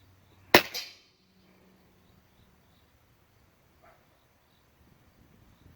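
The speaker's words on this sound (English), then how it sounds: "I'm setting this gun up for hunting, and I'm using the H&N Barracuda 31 grain and this 25 cal." A single sharp .25 caliber air rifle shot with H&N Barracuda 31 grain pellets, fired off a bag on a hunting setup, loud and close with a brief decay, then near silence and a faint distant tap.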